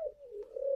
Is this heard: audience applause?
no